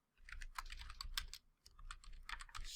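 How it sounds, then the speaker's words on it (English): Fast typing on a computer keyboard, with dense, irregular bursts of close key clicks and a short pause partway through. "Let's type that."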